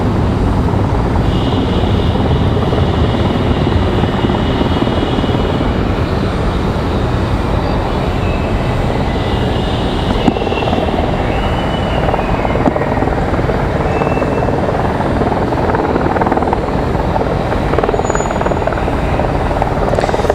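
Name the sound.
Airbus A220-300 airliner arriving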